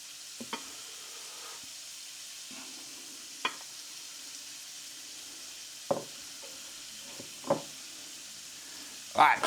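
King prawns fry in a pan with a soft, steady sizzle, broken by occasional clacks and scrapes as they are turned, heard close and fairly quiet.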